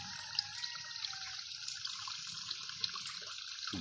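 Spring water flowing steadily from a natural spring in Laguna, a continuous even rush with faint splashing, alone with no talk.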